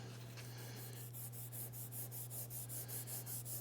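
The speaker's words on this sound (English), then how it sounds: "Now I am going to hit it up with the sanding pad" A sanding pad rubs a rusty cast iron table saw top with a steady, gritty rasp back and forth in even strokes, faint and close, over a low constant hum.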